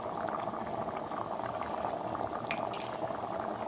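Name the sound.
gravy boiling in pan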